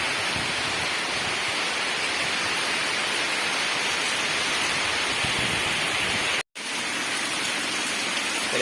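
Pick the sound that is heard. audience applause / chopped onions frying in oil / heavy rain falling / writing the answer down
heavy rain falling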